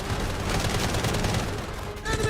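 Rapid gunfire rattles through a video game tank battle, a continuous, dense barrage of shots at moderate distance with a voice talking faintly over the noise.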